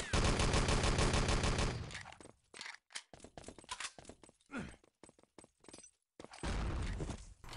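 Gunfire in an Enemy Territory 3on3 LAN tournament match: a loud, close burst of rapid automatic fire, then a scatter of sharp single shots with short gaps, and another sustained burst at the end.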